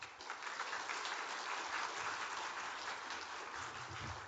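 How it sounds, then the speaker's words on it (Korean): A church congregation claps to welcome the pastor to the pulpit at a Lent afternoon service, dense sustained applause at an even level throughout. "나오실 때 큰 박수로 환영해 주시기 바랍니다."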